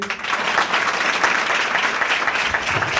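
An audience at a Katargam animal-welfare trust gathering gives the donors a round of applause, a dense, loud burst of clapping that holds steady for the whole stretch.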